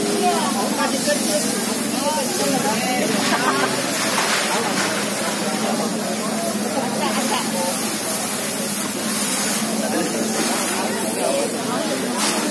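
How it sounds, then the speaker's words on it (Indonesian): Firefighters' hoses spraying water aggressively onto a large night-time fire, a continuous loud broadband hiss and rush of spray with crackling bursts, under the voice of someone talking over it. "proses penyemprotan dari pemadam kebakaran sudah sangat agresif sekali, kencang sekali semprotannya"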